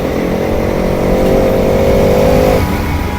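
A motorcycle engine drones loud and continuous while riding, with a steady rumble and a slight rise in pitch midway, all close and with no talking.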